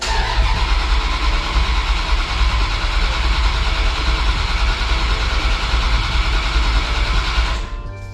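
A Dodge Dakota R/T's 5.9L Magnum V8 cranks on the starter in a steady, loud, whirring churn for about seven seconds without catching, then cuts off abruptly.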